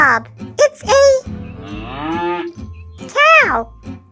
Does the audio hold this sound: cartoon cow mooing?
yes